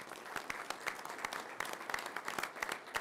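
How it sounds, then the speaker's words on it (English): Audience applause at a Roswell, New Mexico city council meeting honoring the state champion football team: dense, steady clapping from a full room, sustained throughout with no voices over it. "tonight I would like everybody here to give them a big round of applause"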